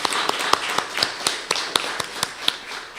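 Applause from an audience at an official launch event, heard as a run of sharp, separate claps at fairly steady spacing over about three seconds, moderately loud over a faint steady background.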